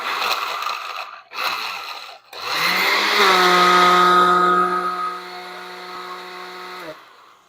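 A blender gives 1/3 cup of Prosecco-vinegar vinaigrette a quick whiz: two short pulses, then a loud, steady motor whir that rises in pitch and runs about four seconds before cutting off. No one speaks.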